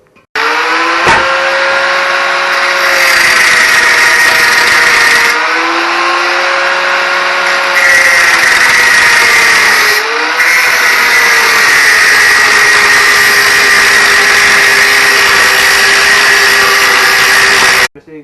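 A power tool cuts steel tubing and angle iron in half for bumper beams on a GT6000 mud mower build, a loud continuous grinding whine with pitch dips as the blade bites, running steadily for about seventeen seconds with no talking.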